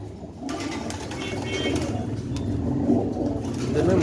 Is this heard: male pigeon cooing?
yes